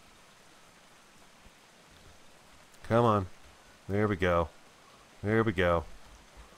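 Steady rain hisses in the Atlas video game, a soft continuous wash running under three short bursts of a voice.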